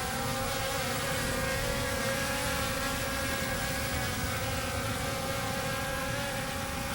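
A DEERC D20S micro drone hovers outdoors in light wind, giving a steady, continuous propeller whine and buzz that holds at an even level throughout, with wind rumble underneath.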